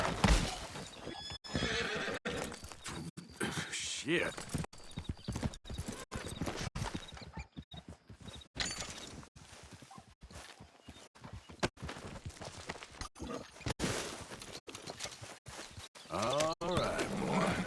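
A horse in the video game Red Dead Redemption 2 clip-clops along with repeated hoofbeats and lets out several loud neighs and whinnies. A voice briefly speaks over the animal sounds.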